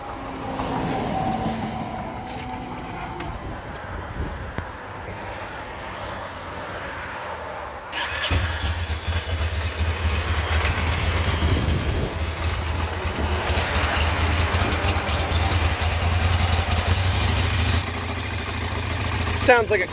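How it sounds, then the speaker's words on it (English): A 2009 Ducati Monster 696 fitted with Two Brothers exhaust pipes idles nearby with a steady, throaty drone that grows fuller and louder partway through, while people talk over it. "Sounds like a quiet Ducati."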